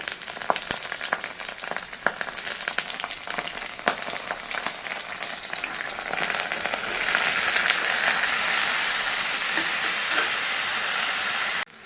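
Onion and pointed gourd fry in a pan with green chillies, a loud, close, continuous sizzle that swells and grows denser partway through, punctuated by light stirring clicks, with no talking.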